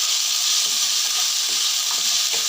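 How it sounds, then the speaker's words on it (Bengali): Food sizzles and fries steadily in a pan with a bright, continuous hiss while potatoes are mixed with turmeric and salt, with a few soft scraping stirs, close and loud and with no talk. "এখন ভালোভাবে মিশিয়ে দিব।"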